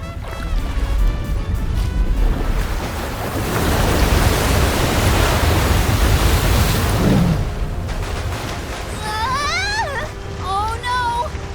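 A ship in the Visions of Mana game smashes through a wall of waves, a loud surging roar of crashing water that swells and then subsides, followed by brief voice-like cries near the end.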